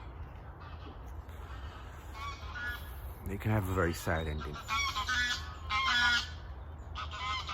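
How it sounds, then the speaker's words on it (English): Several geese honk loudly and repeatedly from nearby, their harsh calls overlapping, while a person talks over the noisy flock. "That's some very noisy geese."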